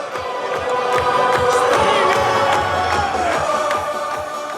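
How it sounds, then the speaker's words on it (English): A street crowd at a lively procession behind a double-decker party bus chants and cheers, a loud sustained roar of many voices with music thudding underneath. "chants erupt from across the crowd"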